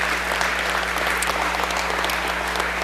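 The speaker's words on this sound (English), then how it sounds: "y'all can clap for about that" A church congregation claps steadily for a departing interim worship leader during a Sunday service, dense and fairly loud over a constant low electrical hum.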